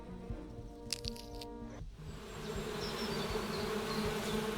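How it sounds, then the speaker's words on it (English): Bees in The Hand of Glory adventure game drone in a dense buzzing swarm that rises in intensity partway through, with a few soft clicks and cracks and no speech. "The bees seemed bothered by my gesture."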